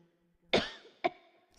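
Two short, harsh synth bursts in Logic Pro X sounding like coughing, the first longer with a ringing tail, the second a quick sharp hit, over faint tonal hum.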